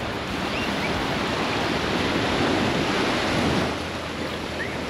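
Sea surf rolls steadily onto the beach at Pisa, Italy, a dense, continuous wash of breaking waves with wind buffeting the microphone and no voices.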